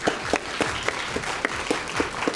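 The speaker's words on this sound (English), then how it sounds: "So please, a round of applause to John." Applause from an audience at a student video game demo event, a dense steady wash of clapping with sharper individual claps popping out, fairly close and sustained throughout.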